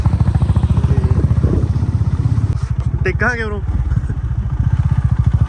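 A motorcycle engine putters steadily throughout, close by, with people talking and calling out over it.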